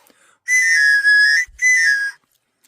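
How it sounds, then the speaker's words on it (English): A toy whistle blows three loud, shrill chord-like blasts, the first two joined and the third after a brief gap, sounding close and alone. "It's like a 3-note whistle."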